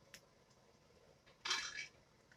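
A metal lid clanks onto a pot of cooking grits with a brief bright clatter, preceded by a faint tap, in a quiet kitchen.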